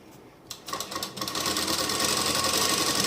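A sewing machine stitches a suit lining. After a few hesitant starts, the motor settles into a steady, fast, continuous whirring run close by.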